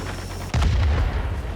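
Aircraft cannon fire in World of Warplanes, a single sharp heavy shot that booms out and decays over a constant engine drone, close and loud with no talking.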